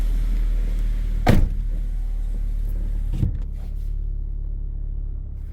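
A used LPG-fuelled car engine cranks and catches with a sharp burst, settles into a low, shaky idle rumble, and gives a second short blip, all heard up close with no talking.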